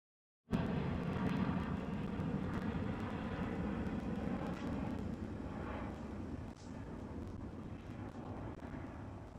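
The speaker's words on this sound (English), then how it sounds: "There she is, CargoLux 747 pushback" Low, steady rumble of a Cargolux Boeing 747 cargo jet during pushback at Amsterdam Schiphol airport, heard from a distance with some wind noise, holding continuously and easing slightly over several seconds.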